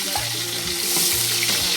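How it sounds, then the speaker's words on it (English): Tomatoes and onion fry in a pan, giving a steady crackling sizzle with soft stirring scrapes, close and moderately quiet. "So I'm just gonna start frying the"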